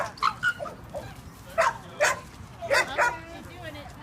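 A dog barks and yips repeatedly during an assistance-dog training session indoors, short sharp barks in an irregular rhythm, close by, with occasional people talking nearby.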